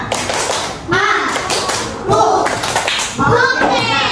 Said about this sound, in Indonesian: Tepuk oke untuk kita semua